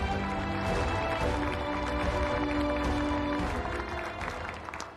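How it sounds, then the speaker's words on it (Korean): An audience at a Korean regional industrial development briefing claps in a continuous, moderately loud patter with some tonal hum beneath, tapering slightly near the end. "이재용 회장님께 큰 박수 부탁드립니다"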